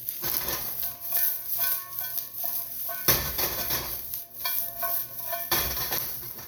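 Celery tossed in a hot wok-style pan while stir-frying beef lo mein, with repeated clattering utensil strokes against the metal in uneven bursts over a steady background sizzle, close up and with no talking.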